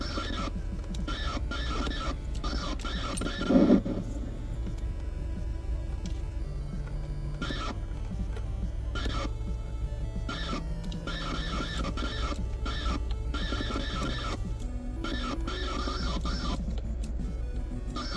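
Bally Astrocade 1978 video game console sound chip playing bleepy electronic tones and buzzy synthesized sequences, steady and fairly quiet throughout with no talking.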